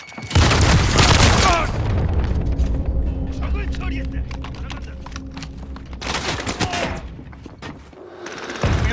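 A grenade blast in Call of Duty Modern Warfare, a loud booming burst at the start and again later, amid rattling machine-gun fire and a steady battlefield din.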